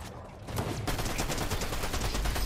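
The Iron Warrior Harbinger SMG firing in Fortnite, a rapid continuous stream of shots that starts after a brief lead-in and stays loud to the end.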